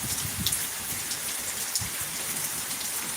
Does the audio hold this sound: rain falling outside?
yes